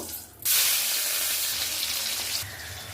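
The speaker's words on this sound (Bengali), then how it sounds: "তেল গরম করে প্রথমেই মাছগুলো ভেজে নেব" Pieces of rohu fish drop into hot mustard oil and burst into a loud, steady, hissing sizzle that holds for about two seconds, then eases slightly, close by with no talking.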